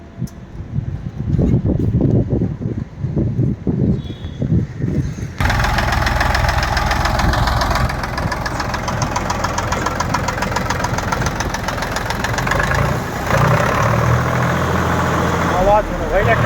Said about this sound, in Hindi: आवाज सुनो भाई ट्रैक्टर की रे।